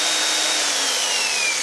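A power drill bores into a ceramic tile while a rain shower is being retrofitted, giving a steady, continuous high-pitched whine and grinding hiss that stays loud and even, with no voices.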